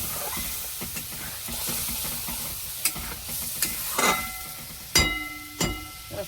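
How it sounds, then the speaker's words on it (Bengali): Spice paste fries in oil with a steady, close sizzle, interrupted by several sharp scraping stirs and a louder hissing burst toward the end. "এটা মশলাটাকে একটু ভালো করে ভেজে নেব"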